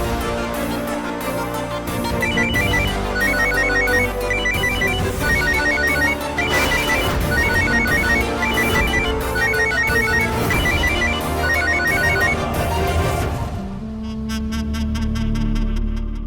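A phone's repeating electronic ringtone melody plays loudly in steady cycles on an outgoing call, with music-like tones, ending with a brief changed tone near the end.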